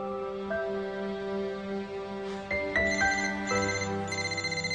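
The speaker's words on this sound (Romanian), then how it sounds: "Sună un telefon și nu e al meu." A phone ringtone plays a melodic electronic tune, steady and fairly loud, with the pattern shifting and stepping up partway through, and no voices over it.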